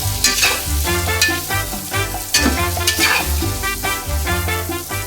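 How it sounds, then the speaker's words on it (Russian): Vegetables stirred in a frying pan for a fish marinade, a steady close sizzle with repeated scraping strokes of the stirring utensil running throughout, no talking. "Перемешаем."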